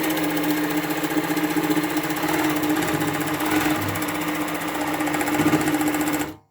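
A longarm quilting machine stitches with rulers, making a continuous close mechanical hum with a fast rhythmic needle chatter that runs steadily, then cuts off abruptly at the end.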